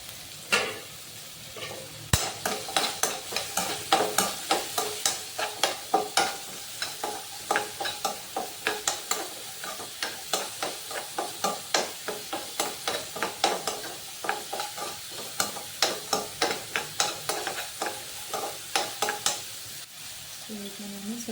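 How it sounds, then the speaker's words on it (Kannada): Onion, coriander and green chillies frying in a pan, with a steady run of close scraping stirs over a continuous sizzle for about twenty seconds. "ಈರುಳ್ಳಿ ಜೊತೆಗೆ ಚೂರು ಕೊತ್ತಂಬರಿ, ಆಮೇಲೆ ಮೆಣಸಿನ್ಕಾಯಿ ಹಚ್ಕೊಂಡು ಇಟ್ಕೊಂಡಿರೋಂಥ ಮೆಣಸಿನ್ಕಾಯಿ ಹಾಕ್ತಿದ್ದೀನಿ."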